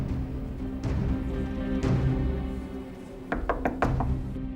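Knocking on a door: a few scattered knocks early, then a quick cluster of four or five sharp raps near the end, moderately close against a quiet room background.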